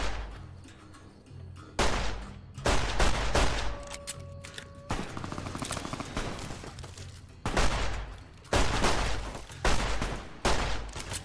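Gunfire in Fallout: New Vegas, with several loud bursts of shots and booming reports separated by quieter gaps and a faint tonal hum, and no talking.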